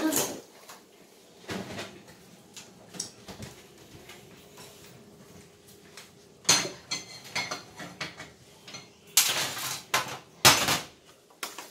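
Cheesy Idaho-style mashed potatoes are scraped from a pot into a bowl, with soft thuds and clinking spoon-on-dish sounds in scattered bursts, louder toward the end, and someone talking quietly in between.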